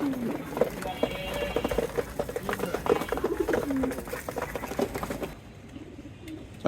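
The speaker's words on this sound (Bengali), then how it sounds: "আর কবুতর কয়টা আছে আপনার এখানে?" Pigeons at a home loft near Dhaka coo repeatedly through the scene, soft and close, with other bird calls mixed in while people talk over them, fading toward a quieter end.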